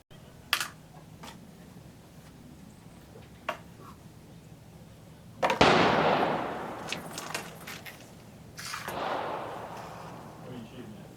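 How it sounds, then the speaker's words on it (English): Shots from a Swiss K11 rifle firing PPU 174 factory ammunition outdoors, a few sharp cracks with longer echoing reports trailing off after the loudest ones, heard at moderate distance between quiet pauses. "Now I went and fired 10 rounds in the K11."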